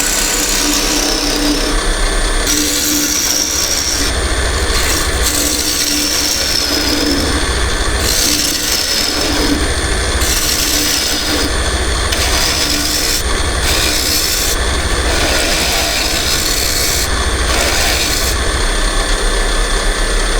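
A spindle gouge hollows out a small wooden box spinning on a lathe, giving a continuous steady scraping and cutting rasp over the lathe's hum, with brief pauses and restarts as the tool is lifted and reapplied.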